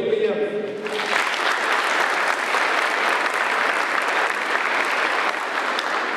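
Sustained applause from a ceremony crowd for guests at a Riflemen's Day (Šaulio diena) event, steady and fairly loud, starting after a brief moment of other sound and continuing unbroken throughout.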